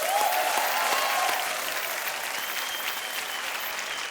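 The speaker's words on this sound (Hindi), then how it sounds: "तालियां।" Studio audience applause on an Indian TV game show, a dense, steady burst of many hands clapping that fills the whole stretch at even loudness and eases off only slightly toward the end.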